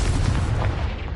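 A Confringo fire-blast spell exploding in the Hogwarts Legacy video game, a heavy rumbling boom that fills the whole second with a dense low-end roar.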